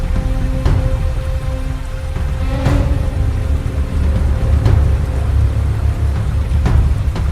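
Heavy rain pours down on a dark, stormy night, a loud, dense and continuous patter on surfaces with scattered heavier drops and a faint low hum running underneath.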